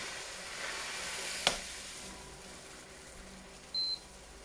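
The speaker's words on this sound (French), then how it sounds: "C'est devenir agaçant quand à chaque fois tu soulèves la casserole et puis ça te bip." A single short, high electronic beep from a stove sounds near the end as the pan is lifted, over a steady soft sizzle of crêpe batter in a pan.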